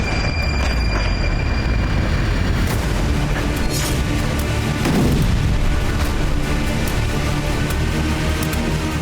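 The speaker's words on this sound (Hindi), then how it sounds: "इजराइल ने गाजा में हमास से जुड़े 5 सबसे बड़े और ऊंचे टावर को मिसाइल से उड़ा दिया।" Missile strikes blow up high-rise towers in Gaza: a loud, continuous, heavy rumbling roar with deep booms swelling midway, no voices.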